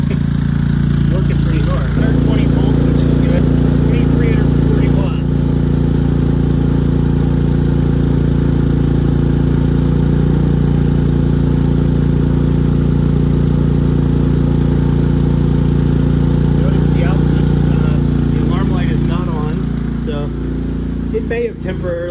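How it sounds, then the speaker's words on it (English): A Predator 3500 portable generator runs loaded with a central air conditioner, a loud steady engine drone with a low hum that holds throughout, briefly dipping near the start, with a voice talking over it. "what we have here is the Centroair running on a Predator 3500."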